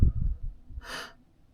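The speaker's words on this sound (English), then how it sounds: "gasping for air, which means literally breathing with shocks like this" A single sharp, audible gasp of breath, done as a singing warm-up exercise, comes after a few soft low breaths and stands alone, close and clear, before fading to quiet.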